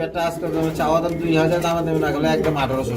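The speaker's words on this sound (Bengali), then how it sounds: "খুবই চমৎকার বাঘা গ্রিজেল কবুতর ফুল রানি ডিম পাচ্ছে" Bagha grizzle pigeons, a laying hen among them, coo at close range in a pigeon-selling setting, with soft repeated coos under continuous conversation throughout.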